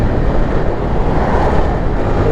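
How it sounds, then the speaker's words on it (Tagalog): Steady roaring wind buffeting the microphone on Aringay Bridge in La Union, Philippines, a dense continuous rumble with no breaks and no voices. "Ang lakas ng hangin."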